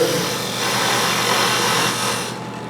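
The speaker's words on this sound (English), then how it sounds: "I'm cutting a V in here, and since I'm using a spindle gouge, the edge of that is going to be doing all the cutting" A spindle gouge cuts a V into a spinning wooden workpiece on a lathe, giving a steady, continuous rasping scrape close by that holds even for about two seconds, then drops away at the end.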